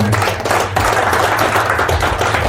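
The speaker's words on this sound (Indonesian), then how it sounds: "Tepuk tangan buat Pak Zen" A room of industrial relations training participants applauding for Pak Zen, a dense continuous wash of clapping from many hands, fairly loud and close, with no clear gaps.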